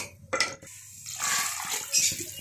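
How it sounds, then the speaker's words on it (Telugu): A pot of water is poured into a sambar of vegetables and carrots to which tamarind has already been added. There is a short splash, then a steady pour of water into the pot that lasts about two seconds. No one speaks. "ఇదిగోండి ఒక చెంబు వాటర్ పోసాను"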